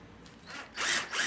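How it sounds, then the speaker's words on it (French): Power drill briefly whirring as it bores through a motorcycle mudguard on a supermoto, two short rising bursts close up. "tu le poses dessus et tu perces à travers en faisant attention à percer aux bons emplacements et à percer bien droit"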